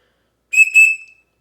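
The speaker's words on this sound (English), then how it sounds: "It's just one single noise when you blow out through. It's very loud" A small rectangular 3D-printed survival whistle gives one loud, shrill, piercing blast in two quick pulses with a brief tail, alone in near silence.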